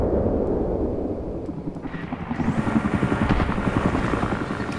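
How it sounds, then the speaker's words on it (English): A video game helicopter, a Battlefield 3 scout helicopter, its rotor thumping steadily and loudly, the rumble swelling and brightening partway through as the engine noise intensifies. "I just got in the helicopter and I hear it"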